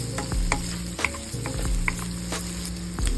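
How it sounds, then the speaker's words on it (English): Garlic and onion sizzle in hot oil in a pan while being stirred, a close, dense crackle broken by repeated scraping strokes of the utensil. "we heat oil in a pan and we saute garlic and onion."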